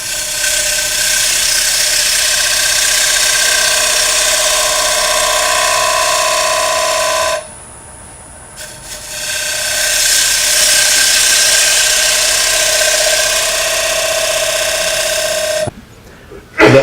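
A wood lathe turns a textured-rim platter while a ground spindle-style gouge rides the tool rest, giving a loud, steady high whine and tonal cutting hum that stops briefly partway, then resumes and cuts off near the end.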